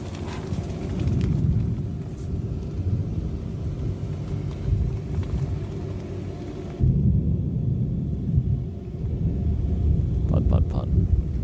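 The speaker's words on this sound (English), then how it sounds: "I love waking up to the sound of thunder, just like this" Thunder rolling over an island at dawn, a continuous heavy low rumble that swells and churns for the whole stretch, loud and dense, with a sharp shift partway through and a few faint higher clicks near the end.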